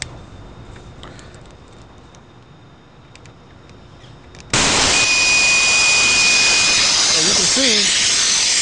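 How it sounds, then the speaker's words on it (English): Shop compressed air rushes through a venturi fitting to pull a vacuum on a vehicle air-conditioning system, a sudden loud, steady hiss that starts halfway through after a quiet stretch and continues unbroken. "So what I'm going to do is I'm going to use shop air to create a vacuum on this system."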